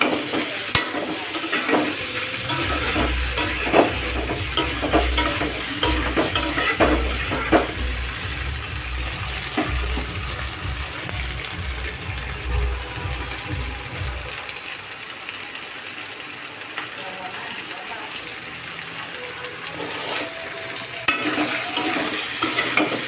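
Vegetables for a vegetarian meal are stirred and sautéed in a pan, with a continuous loud sizzle and repeated scraping strokes of a spoon, close up and steady throughout.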